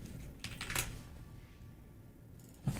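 Computer keyboard typing, a few quick soft clicks and taps close by against a low background hum, with no talking.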